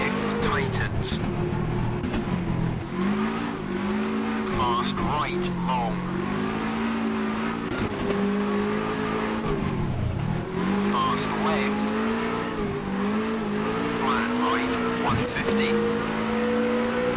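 A rally car in Richard Burns Rally brakes and skids over a gravel stage, its engine droning and dipping as the revs change, with tire scrub and skid noise, while a driver talks throughout.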